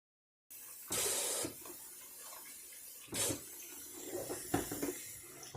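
Water runs from a tap in short bursts, splashing into a kettle being filled with about a liter, with quieter clinks and handling noises between the pours.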